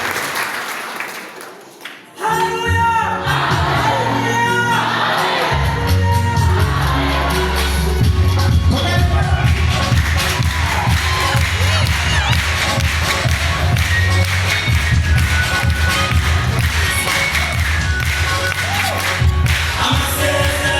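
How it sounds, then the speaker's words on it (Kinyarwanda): A congregation at a gospel concert bursts into sustained applause and cheering after a prayer, loud crowd clapping with whoops and shouts that continues steadily; music plays underneath. "nimuyikomere amashyi akabyara"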